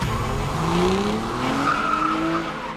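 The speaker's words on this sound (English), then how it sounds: "Shaw comes back in an Aston Martin DB9" An Aston Martin DB9 skids through a film stunt scene, tires squealing in long rising and falling streaks over a steady, loud engine roar, with no voices.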